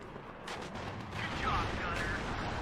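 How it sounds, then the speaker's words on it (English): Gunfire from an older M1 IP tank firing in the military strategy game WARNO, with a few sharp booming shots over a steady battle rumble and a voice talking underneath. "M1 IP over here gonna be opening fire."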